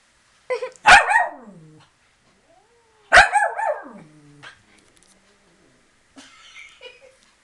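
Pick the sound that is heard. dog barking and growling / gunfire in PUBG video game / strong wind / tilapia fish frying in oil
dog barking and growling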